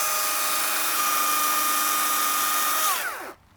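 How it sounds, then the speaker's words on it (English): A chainsaw cuts through a two-inch hawthorn stem in a hedge, a loud steady high-pitched whine held for about three seconds before the engine winds down and cuts out. "So I'm just going to cut this little one with a chainsaw."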